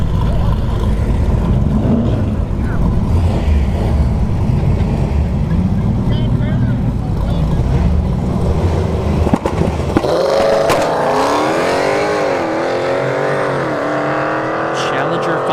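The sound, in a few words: drag race cars, Trans Am and Challenger, on dragstrip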